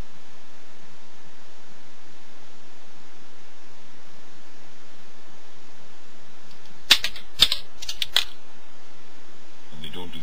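Hobby clippers snip through long bamboo skewers in a few sharp, close clicks and snaps bunched together near the end, after a stretch of quiet room hiss.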